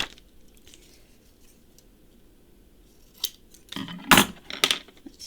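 Scissors snip through paper up close after a quiet stretch, a few sharp crisp cuts bunched near the end with light handling clatter between.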